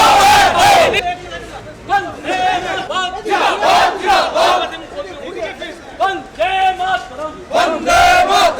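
A crowd at a Congress party protest against the election commission loudly chants slogans in unison, repeating call-and-response phrases in a steady rhythm with short pauses between lines.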